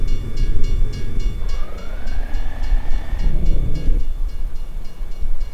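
A freight train in American Truck Simulator rolls past with a steady loud rumble and rhythmic rail clatter, and a horn blast rises over it partway through.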